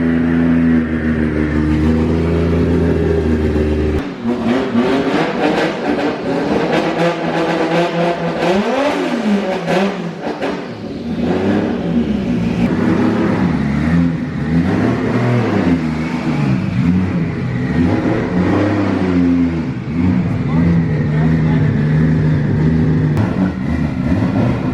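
A loud drift car, a Nissan Silvia S15-type build at a shop in St. Louis, idles roughly and then revs hard repeatedly, the engine note rising and falling in sustained, close bursts with no talk.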